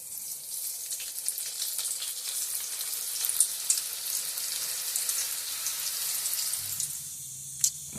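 Kadubu dumplings sizzle in a pan of hot oil, a close and steady bright crackle with small pops. A soft clink lands near the end.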